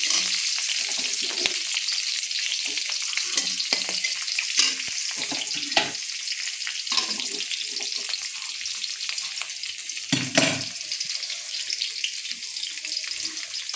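Whole garlic cloves go into hot oil already seasoned with whole cumin seeds, giving a steady, loud sizzle throughout. Scattered stirring scrapes sit under the sizzle, and a sharp clatter comes near the end.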